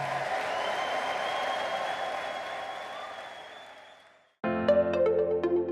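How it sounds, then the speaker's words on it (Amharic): A church congregation cheering and ululating in praise, a broad sustained crowd roar with a high trilling ululation running through it, fading out before a sudden burst of loud music. "እስቲ ለጌታ ከፍ ያለ እልልታና ጭብጨባ።"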